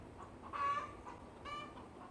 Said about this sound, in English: My chickens were freaking out because of that guy.